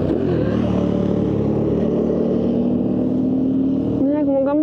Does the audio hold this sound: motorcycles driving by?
yes